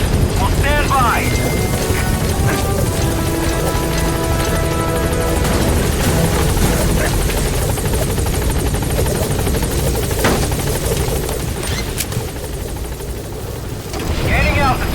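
The Pequod helicopter in Metal Gear Solid V thumps with a loud, continuous rotor and engine roar, joined by wind and radio chatter from a voice talking over it.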